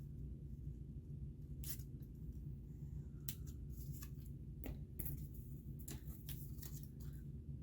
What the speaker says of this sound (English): I'm going to take my little scissors, I'm going to snip this off here.